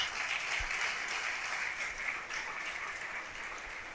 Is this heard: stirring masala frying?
no